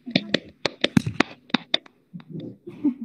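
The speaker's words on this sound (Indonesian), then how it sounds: "kita kasih tepuk tangan dulu untuk Kacau" A handful of sharp hand claps in an uneven burst of applause during a children's read-aloud storytelling session, close and crisp, thinning out into softer rustling and murmur toward the end.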